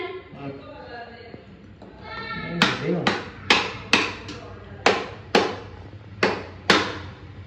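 A tender coconut hacked open with a blade: about eight sharp, hard chops in an uneven series, close by, after someone talks at the start.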